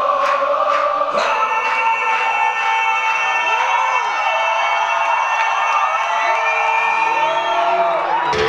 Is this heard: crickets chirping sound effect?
no